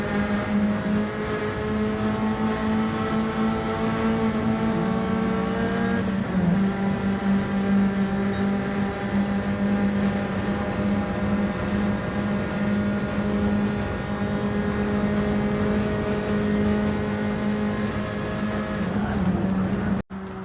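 Race cars lapping Blue Moon Bay Speedway in a GT sim racing game: a continuous loud engine drone with steady harmonic tones that shift pitch as gears change, sustained throughout with no talking.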